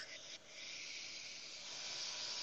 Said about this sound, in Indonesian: So kita tumis dulu bumbunya.